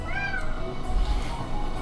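A pet cat meows in a home, giving a few drawn-out, wavering calls close by over a steady background hum with no talk.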